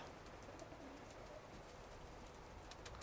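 Pigeons coo softly amid a steady, noisy background hum, the low calls blending together continuously.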